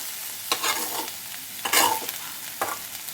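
Potatoes frying crisp in oil in a kadai: continuous close sizzle broken by repeated bursts of spatula scraping and stirring, with no talk.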